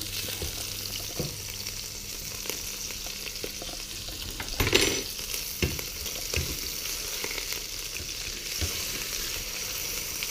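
Filet mignon sizzles in butter in a pan with a steady, close frying crackle, punctuated by a brief louder spatter near the middle and occasional soft clicks.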